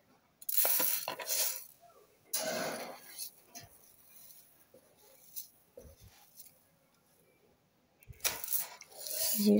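Dishes and utensils being washed at an outdoor hand-pump area, with bursts of running water and scattered clinks of metal and crockery, close by, with quieter pauses between.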